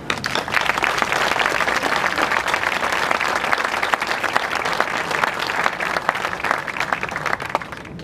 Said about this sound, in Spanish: Y aprovecho ya para pedir un aplauso